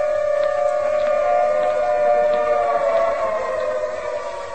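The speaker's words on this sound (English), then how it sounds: "The siren is a musician of no value, knowing only one tune" An air-raid siren wails in a 1945 radio drama, a loud sustained steady tone with harmonics holding throughout and fading slightly at the end, with no voices over it.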